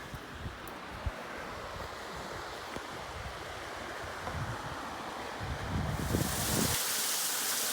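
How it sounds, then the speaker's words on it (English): Borden Creek in the Sipsey Wilderness, Alabama, flowing beneath an old trail bridge as a steady, soft rushing wash of water, with gusts of wind noise swelling near the end. "There's the Borden Creek sliding by underneath."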